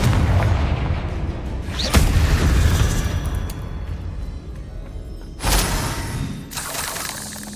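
Confringo spell explosions in Hogwarts Legacy ring out as loud booming blasts with shattering bursts, two sharp impacts standing out over a rumbling, continuous battle din.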